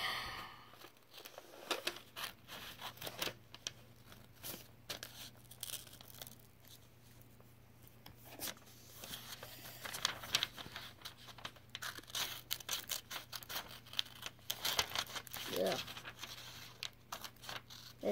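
Scissors snip and crunch through craft material for homemade ornaments in short, irregular, close-up cuts, with faint rustling and crinkling between them.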